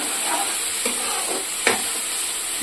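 Mint leaves fry in hot oil with a continuous dense sizzle, while a spoon stirs through them with a few soft scrapes, close and steady.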